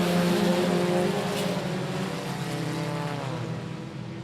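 USRA tuner race cars roar together on a dirt oval at the start of a main event, a loud sustained engine drone that fades slightly as the pack moves off, with no voices.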